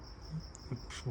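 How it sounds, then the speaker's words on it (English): A cricket chirps steadily in a garage, a continuous high trill running through the whole moment, moderately loud in the background with a few faint low bumps beneath. "if you can hear that cricket in the background, it's pretty loud"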